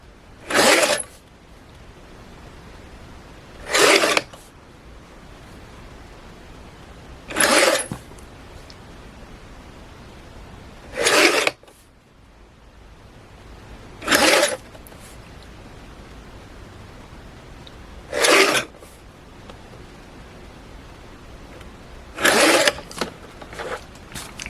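Paper is cut into white strips, seven short crisp slicing bursts spaced a few seconds apart over quiet room tone.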